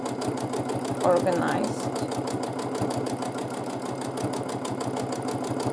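A sewing machine runs continuously through free-motion quilting of oval shapes, a steady mid-level mechanical whir heard close up beneath a woman's ongoing spoken instruction.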